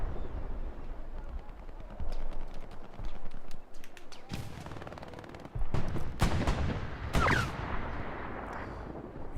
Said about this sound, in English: These rockets from the top of the beach to the bottom are really something to look at.